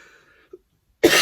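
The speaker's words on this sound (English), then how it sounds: "I'm hoping for this bloody cough to disappear so I can at least talk." A single sharp cough from a man with a persistent cough bursts out near the end after a brief quiet pause. It comes close and loud, following a faint tail of speech.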